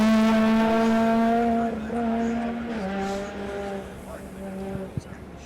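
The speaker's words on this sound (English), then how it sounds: "So I can hear another car coming towards me." A rally car on a Circuit of Ireland stage comes on with a loud, steady engine drone. Its pitch steps down through gear changes and then eases off as the car goes by, ending with a few short knocks.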